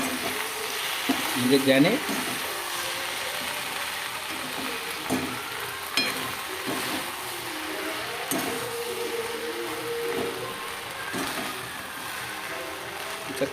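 Okra sizzles and fries in a hot pan while being stirred, a steady crackle with occasional scraping, with brief speech over it early on.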